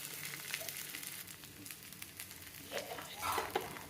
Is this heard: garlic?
yes